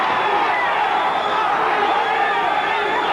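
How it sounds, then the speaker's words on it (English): A boxing crowd at ringside roars and cheers, a dense, continuous wall of voices swelling with excitement during the 1983 bout between Bobby Chacon and Cornelius Boza Edwards, while a commentator talks over it. "And the crowd coming alive."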